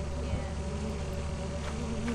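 Bees in a video game buzz continuously at moderate volume, a steady droning hum over a dense background with no talk.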